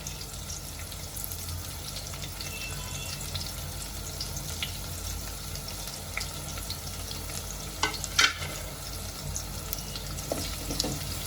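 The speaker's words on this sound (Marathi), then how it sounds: "ह्यात मी अद्रक लसूणची आपण जे खलबत्त्यामध्ये वाटून घेतलंय ते घालून घेते" Ginger-garlic paste sizzling and frying in a pan over medium flame, a steady close crackle with occasional stirring scrapes and small pops.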